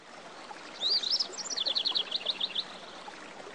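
A river flowing in a kids' learning app makes a steady, soft rushing wash, with bright bird chirps and trills rising over it near the middle.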